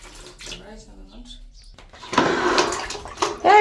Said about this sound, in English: Okay, so you put some water.